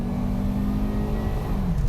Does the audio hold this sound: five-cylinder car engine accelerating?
yes